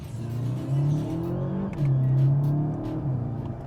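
Volkswagen Passat GTE plug-in hybrid with 1.4 TFSI engine accelerating in manual first gear, a steady mid-pitched engine drone rising in revs, dipping briefly at a gear change, then pulling again, close and continuous with no talk.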